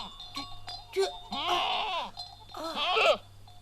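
Goats returning from pasture bleat in two wavering calls, one after the other and close by, over a steady low hum.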